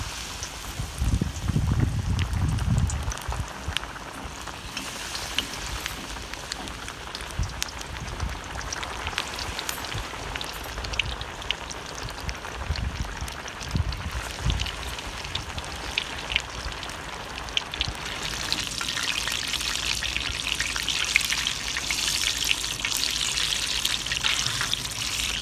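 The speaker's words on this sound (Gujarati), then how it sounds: "આ ટામેટાના ભજીયા જ્યારે તળાઈ રહ્યા હશે" Tomato bhajiya fry in hot oil, producing a continuous crackling, fizzing sizzle full of tiny pops. It stays steady and close, with no talking.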